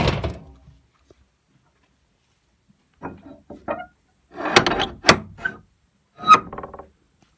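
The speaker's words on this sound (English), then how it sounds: "Homemade souped up door latch." A homemade heavy-duty welded door latch on a cattle shed door rattles and clanks in a few separate bursts of metallic knocks and thunks. The sounds come after a short quiet gap and are heard up close.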